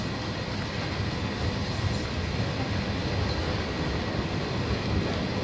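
A locomotive in Train Sim World, in the Powering America scenario, rumbles steadily with a dense, continuous engine and rail drone that holds at an even loudness throughout.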